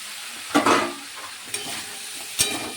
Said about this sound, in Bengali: মশলাটা আমার কষা হয়ে গেলে পর ফুলকপি আলু আর কড়াইশুঁটিগুলো আমি এর মধ্যে দিয়ে দেবো।